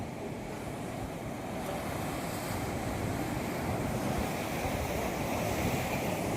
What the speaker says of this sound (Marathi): हा फेसाळता समुद्र त्या लाटा येत आहेत